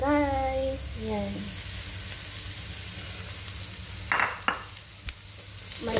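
Fried rice with garlic, onion, carrot, green peas and shredded chicken being stirred in a pan, a steady sizzle with a few scraping stirs and clinks near the end, after some brief voiced sounds at the start.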